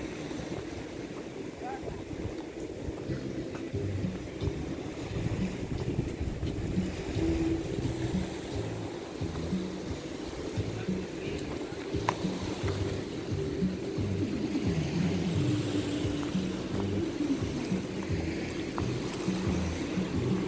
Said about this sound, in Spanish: la transportación en bote con motor 15 acá de La Bocana